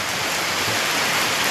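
Heavy rain falls in a dense, steady hiss of drops, loud and close throughout with no voices.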